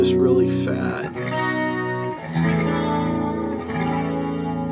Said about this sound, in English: the guitar just responds so nice to even the effects that you put it through